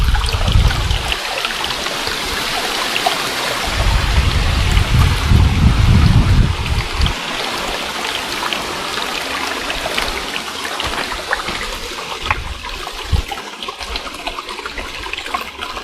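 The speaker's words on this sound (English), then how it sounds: "Something magical about the sound of streams in woodland." A woodland stream on Dartmoor, near Chagford by the River Teign, trickles and babbles steadily in a continuous, fairly loud wash of water, with a fuller gush partway through and no talking.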